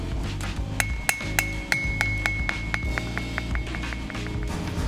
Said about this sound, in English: one more hit with the hammer